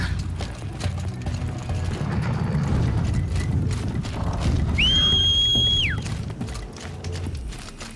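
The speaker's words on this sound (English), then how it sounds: "Run, horse, run!" A horse galloping in the Horizon Zero Dawn: The Frozen Wilds video game, a steady dense clatter of hooves across the whole stretch with a brief rising electronic whine midway.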